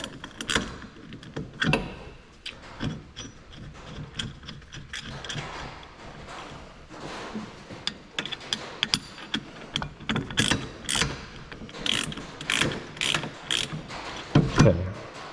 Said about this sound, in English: So I need to kind of get it in there by wrench.